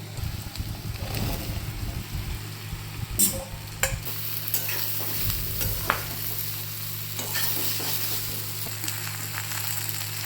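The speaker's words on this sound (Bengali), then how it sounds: "এবারে আমি কচুরলতিগুলো এর মধ্যে দিয়ে দেবো" Taro stolons (kochur loti) fry in a pan with onion, giving a continuous sizzle broken by irregular scrapes and clatters as a spatula stirs them, over a low steady hum.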